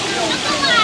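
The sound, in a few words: river water flowing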